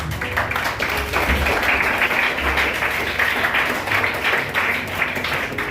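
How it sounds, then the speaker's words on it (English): A crowd at an award ceremony breaks into a sustained round of applause, dense, even clapping that fills the whole stretch at a steady, fairly loud level. "Let us all give him a good round of applause."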